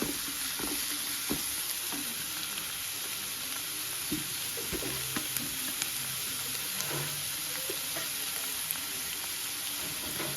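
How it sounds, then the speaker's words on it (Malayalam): A chicken dish sizzles and fries steadily in a pan for the whole stretch, with scattered clinks and scrapes of stirring over a constant hiss. No one speaks. "നന്നായിട്ട് വരട്ടി കൊടുക്കാം"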